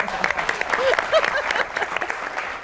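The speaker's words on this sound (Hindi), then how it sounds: "ये सबसे ज्यादा तालियां इन्होंने बजाई है" A studio audience at a talk show gives sustained applause with dense clapping throughout, and a voice speaks briefly over it.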